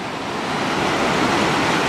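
A fast river rushes past an old mine site, a loud, close, unbroken roar of churning water with a broad hiss and no distinct splashes.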